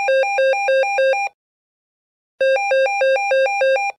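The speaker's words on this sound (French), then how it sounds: "une sonnerie va retentir" A telephone rings in The Sims 4, loud and clean: a burst of four rapid electronic trills, a pause of about a second, then another four-trill burst.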